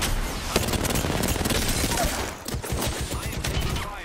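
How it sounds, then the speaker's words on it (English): Dense, loud video-game gunfire pours in as rapid overlapping bursts and shots, nearly continuous with a brief dip midway, a player under heavy fire. "I am taking fire."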